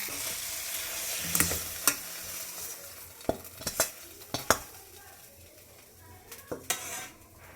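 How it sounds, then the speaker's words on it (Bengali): Fried brinjal stirred in a pan with steady sizzling, then scraped and tipped into a pot, with sharp metal utensil clinks and scrapes scattered throughout at close range. "আমার ভাজা হয়ে গেছে, এবার আমি এটা একটা পাত্রে ঢেলে নিই"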